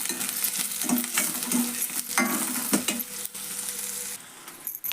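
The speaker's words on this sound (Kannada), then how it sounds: "ಈಗ ಅಷ್ಟು ಉಳ್ಳಾಗಡ್ಡೆ ಹಾಕೀನಿ ನೋಡ್ರಿ ಎಣ್ಣೆ ಒಳಗೆ ಫ್ರೈ ಮಾಡೋಣ್ರಿ ಈಗ" Chopped onions fry in hot oil in a pan for a sprouted pea curry, with a steady sizzle broken by repeated scraping stirs of a spoon, close and fairly loud.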